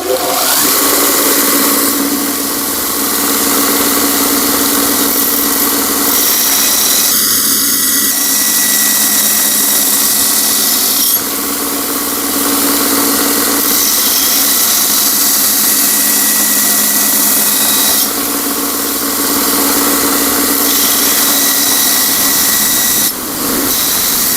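A belt grinder sharpens an axe on a roughly 180 to 220 grit belt, giving a steady, loud, continuous grinding whine with a brief change in tone near the middle and no talking.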